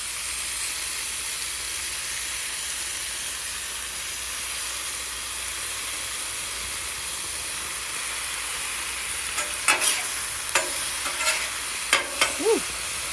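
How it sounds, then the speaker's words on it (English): Turkey slices for sandwiches warm in a pan, a steady hissing sizzle throughout, joined near the end by a cluster of quick clinks and scrapes from a utensil. "Let's cook our turkey a little bit."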